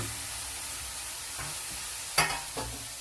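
Capsicum frying in a pan gives a faint, steady sizzle, broken by a couple of short scraping knocks as a spoon stirs it, with no voices.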